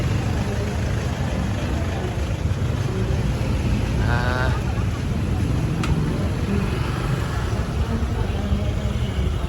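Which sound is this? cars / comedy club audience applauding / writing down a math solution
cars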